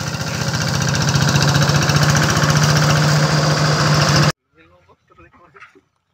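A sugarcane stump cutting machine's engine runs loud and close with a steady chugging pulse, then cuts off abruptly, leaving faint voices talking in a quiet field.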